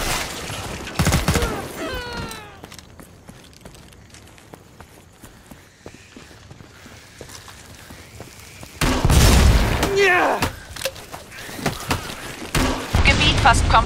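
Bursts of rapid gunfire and booming blasts erupt at the start and again near the end of Killing Floor 2 gameplay on the Black Forest map, with quieter footsteps and clatter in between.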